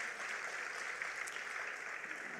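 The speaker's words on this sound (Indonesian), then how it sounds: "Sekali lagi tepuk tangan buat Tuhan kita." A church congregation in Surabaya claps in praise during a sermon service; steady, even applause with a roomy, slightly distant quality, moderately quiet and sustained without talk.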